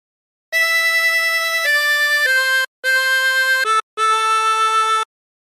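A chromatic harmonica plays a short melody from the hymn Nearer My God to Thee, sustained, reedy notes with brief gaps between phrases, clear and close.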